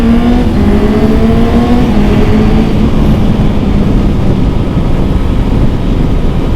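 Engine of a new motorcycle carried over a helmet intercom on a first ride, a steady loud drone with rising and falling pitch sweeps as it revs, alone with no talk.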